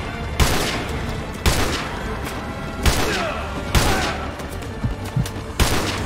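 Sniper rifle fire in Call of Duty MW Remastered: a steady sequence of five heavy, booming shots about a second apart, loud and close, each with a long rolling echo over constant battlefield rumble.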